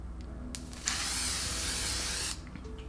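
A single long hiss of L'Oreal makeup setting spray from a pump bottle, about one and a half seconds, close to the microphone, preceded by a brief short spritz.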